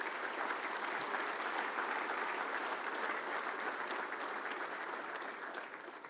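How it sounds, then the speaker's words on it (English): An audience applauds a speaker at a military technology conference keynote in Augusta, with sustained, even clapping throughout that fades a little at the close. "How about another round of applause for Kevin?"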